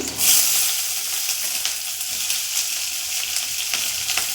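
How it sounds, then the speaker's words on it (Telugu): Green chillies, onions and capsicum sizzling and frying in a pan for cabbage manchurian, a steady close hiss with occasional stirring scrapes and no talking. "ఆ తర్వాత పచ్చిమిరపకాయలు వేసుకుంటానండి ఆ తర్వాత ఆనియన్స్ను క్యాప్సికమ్ వేసుకుంటున్నాను"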